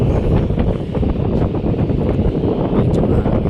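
Strong wind buffets the microphone in a constant low rumble, with faint water or engine noise underneath.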